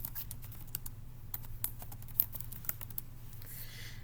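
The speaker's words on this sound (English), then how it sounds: "go to your web browser and type in SmartExchange" Typing on a computer keyboard, a quick run of close, crisp key taps at an uneven rhythm, with a few sharper clacks, alone in a quiet room.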